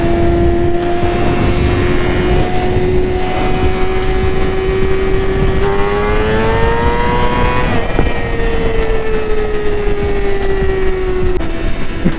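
A 600cc supersport motorcycle engine revs loud and close while riding, a steady high drone with pitch rising and falling through shifts, over constant wind and road rush.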